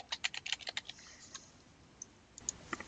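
Computer keyboard typing during a math lecture: a quick burst of close, soft key clicks at the start, then a pause and a few scattered taps near the end, with no talking.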